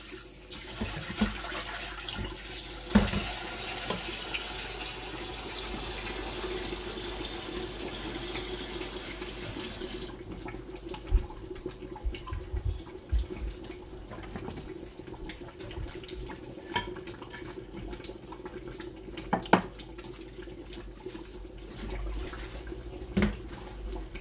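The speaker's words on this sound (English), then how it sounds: "I'm going to wash my spring onions, spring vegetable." A kitchen tap runs steadily while spring onions are washed under it. The water pours hard at first, then quieter, with occasional splashes and clunks in the sink.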